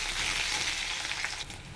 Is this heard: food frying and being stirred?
yes